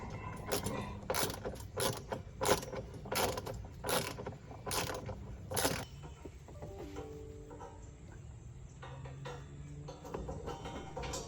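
A ratchet wrench tightens a bolt on a 2020 Toyota 4Runner TRD Pro, giving off a run of quick, evenly spaced clicks close by, followed by quieter handling noises.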